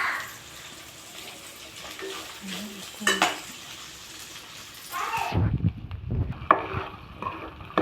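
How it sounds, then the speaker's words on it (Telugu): Food fries in oil with a soft continuous sizzle, broken by occasional utensil clinks and scrapes, then a louder rustling, stirring stretch near the end. "కొంచెం సేపు ఇలా ఆయిల్లో ఫ్రై కానివ్వాలి."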